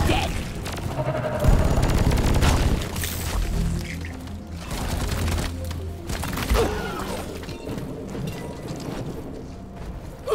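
Gunfire and heavy impacts from the Deep Rock Galactic video game, with repeated booms, thuds and crashing bursts layered loudly and continuously.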